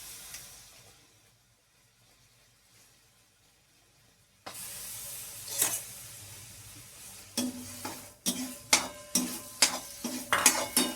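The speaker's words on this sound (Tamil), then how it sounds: "நன்கு கிளறி விடவும்." A spoon stirs carrot paste cooking in ghee and milk in an iron pan, starting with a quiet stretch, then a sizzling hiss and a run of scraping strokes against the pan that grow louder and quicker.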